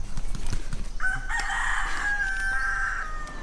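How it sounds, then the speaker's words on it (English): Rooster crowing once at Kaumana Caves near Hilo, Hawaii: a single drawn-out cock-a-doodle-doo of about two seconds, clear and moderately near, over a steady outdoor background hum. "we just got greeted by a chicken"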